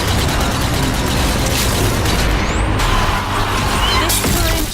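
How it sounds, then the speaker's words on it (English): Grenade explosions boom through a zombie video game amid a dense, continuous roar of game noise, the blasts blending into a loud, chaotic wall of sound. "Some grenade throwing"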